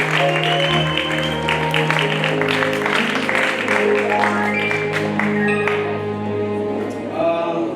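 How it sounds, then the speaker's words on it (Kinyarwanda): Wedding guests applauding in a sustained, dense wash of clapping that runs the whole length, with sustained music tones underneath. "amashyi."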